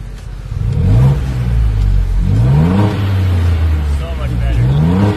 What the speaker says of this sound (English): The Overland Series exhaust by Magnaflow. Love the sound as always.